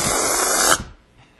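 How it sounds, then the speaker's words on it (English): Air rushing out of an inflated party balloon in one loud, close hiss lasting under a second, then cutting off abruptly into near silence. "Then we let the air out."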